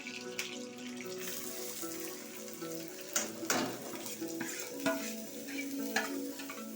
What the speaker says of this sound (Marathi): आता मी कांदा टाकते आहे त्याच्यामध्ये